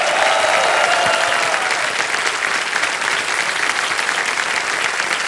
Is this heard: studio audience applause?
yes